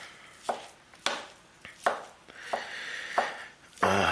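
A knife chopping tender corned beef on a cutting board for homemade hash, about seven distinct close thuds at a slow, uneven rhythm, ending in a slightly denser scraping chop.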